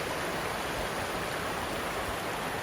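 A creek flows over limestone near a river headwaters, giving a steady, dense rushing wash that stays even and close with no pauses or voices.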